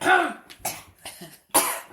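A few sharp, close coughs and throat clearings in quick bursts separated by short silences.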